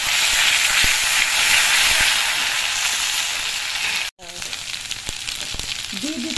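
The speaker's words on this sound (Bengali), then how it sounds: "ফোড়নগুলো ভাজা হয়ে যাওয়ার পর এর মধ্যে 1/2 চামচ আদা বাটা দিয়ে দিচ্ছি" Ginger paste hits hot oil with fried whole cumin and spices, giving a loud, continuous sizzle and hiss that eases slightly, with a brief cut midway and faint stirring clinks afterward.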